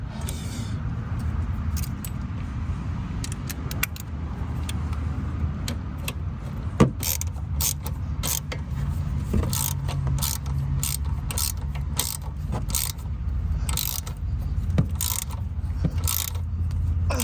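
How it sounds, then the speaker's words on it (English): A 14 millimeter bolt being screwed in on a Toyota Corolla ABS wheel speed sensor, with rapid ratchet clicking and metallic mechanical rattles up close, loud and continuous with no talking. "Then you're going to go ahead and screw in your 14 millimeter."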